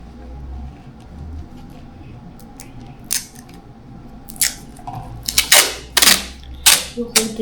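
Adhesive tape pulled off a roll in several quick, raspy bursts while building a soda bottle rocket, with louder strips coming close together near the end over a quiet indoor background.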